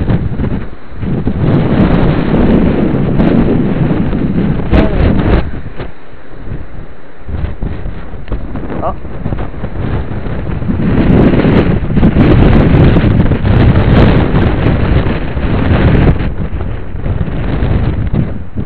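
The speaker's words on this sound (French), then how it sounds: "Encore le vent là, il est moins fort que tout à l'heure" A strong windstorm batters the microphone with loud, continuous roaring gusts that surge and ease in waves, with buffeting noise throughout and no voices.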